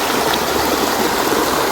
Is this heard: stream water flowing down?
yes